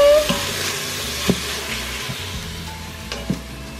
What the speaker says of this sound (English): Now we need to cook and stir for 3 minutes.